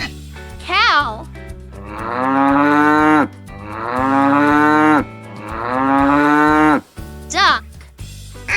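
A cow gives three long, loud moos in steady succession over a light music bed, with a voice briefly before and after.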